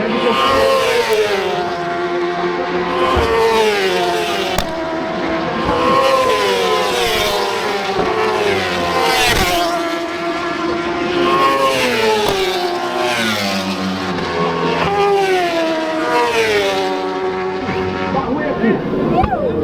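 Superbike racing motorcycles scream past on a Brazilian race track in Londrina, high-revving engines rising and falling through gear changes as several bikes pass in succession, loud and close, with a commentator talking over them.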